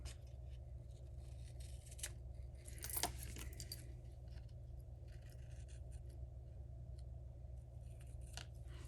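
A few quiet metallic snips of scissors cutting paper over a low steady hum, with light clinks in between and no talking.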